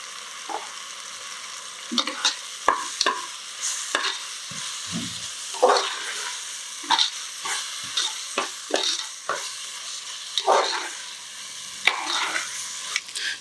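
Masala sizzles steadily in a pan while a spoon scrapes and stirs it in repeated strokes, with yogurt and chili powder being added for a pressure cooker chicken biryani; the sounds are close and continuous and no one speaks.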